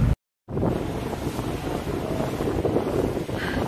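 Strong wind buffets the microphone in a constant roar on a ferry near Ometepe, Nicaragua, after a brief cut, with a low rumble like a boat underneath.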